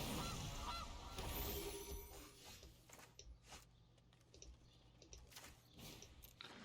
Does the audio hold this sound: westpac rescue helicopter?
no